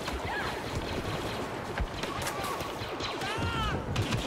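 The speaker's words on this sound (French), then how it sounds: "J'entends des tirs à gauche." Distant gunfire crackles through a busy Star Wars Battlefront battlefield, steady dense noise with scattered sharp shots and whistling blaster-like sweeps, no clear voices.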